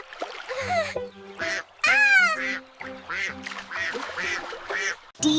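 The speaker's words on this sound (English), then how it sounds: "D for duck." An animated duck quacks several times in a children's alphabet phonics song. The quacks are loud, close and nasal, set between sung or voiced phrases.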